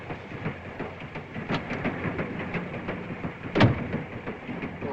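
A European passenger train rumbles along at steady speed, with continuous rolling noise, faint rhythmic clicks and a short louder clank near the end, heard alone without talk.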